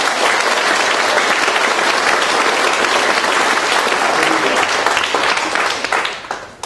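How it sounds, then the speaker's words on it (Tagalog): Loud, dense applause from a church congregation fills the space continuously, then tapers off in the final moments. "Ulitin mo natin yung pinaka-malakas na palakpak."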